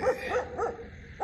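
A dog barks three or four times in a quick, yappy series, moderately close and fairly quiet, heard outdoors in open countryside with no talking.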